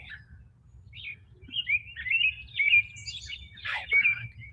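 Birds chirping and tweeting in a quiet setting, a string of bright calls and trills that grow busier midway, over a soft low rumble of background ambience.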